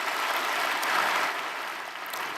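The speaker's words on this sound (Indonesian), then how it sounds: "Ayo tepuk tangan buat Tuhan Bapak Ibu." A church congregation claps for God during a Sunday worship service, a dense, even wash of many hands clapping together, fairly loud and sustained with no pause.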